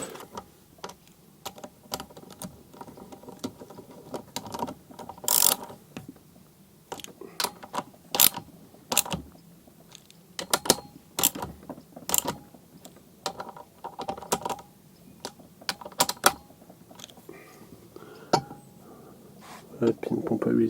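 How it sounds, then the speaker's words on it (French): A Honda engine oil pump being turned by hand during an engine build gives a series of close, irregular mechanical clicks and ratcheting ticks, while a person talks intermittently throughout. "La pompe à huile elle tourne."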